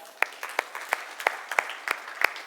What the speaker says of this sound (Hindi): let's clap on level 1